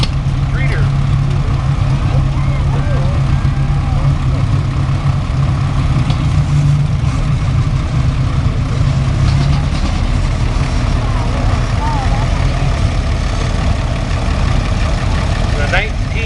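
1947 Allis-Chalmers B tractor idling in a tractor parade, a steady low engine chug running throughout beneath a loudspeaker announcer's talk and outdoor crowd noise.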